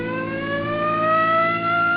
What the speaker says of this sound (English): Come on, hit your siren.